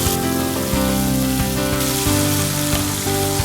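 Fennel seeds, red chilli, curry leaves and ginger garlic paste sauté in a hot pan for South Indian pakoda curry, giving a loud, steady sizzle up close with nobody talking.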